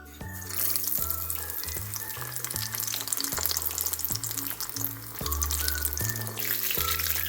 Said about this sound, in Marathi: हे चटणी भरलेलं पनीर आपण ह्याच्यात डिप करतो म्हणून आपण तळतो